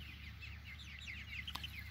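Red Ranger and Cornish cross chickens cluck and chatter together on a homestead, a steady overlapping flock sound with one sharp tap near the end.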